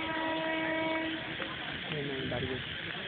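A train draws near through Palpara with a steady low rumble and some hissing, moderately loud and continuous, while voices talk close by.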